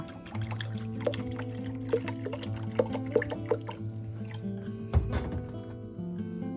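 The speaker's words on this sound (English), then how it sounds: "Water goes into the reservoir." Water pouring and trickling into the reservoir of an opal cutting machine, steady liquid flow with occasional drips and splashes over a low motor hum, close by.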